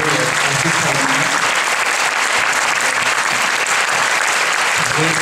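A film audience applauding the crew of Ernest et Celestine at a screening, with sustained, dense, loud clapping throughout and a few voices mixed in.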